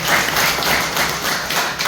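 An audience claps together in a short, dense burst of applause at a talk about leaving a job in Dubai to earn from home in Himachal, steady and fairly loud throughout, with no talking.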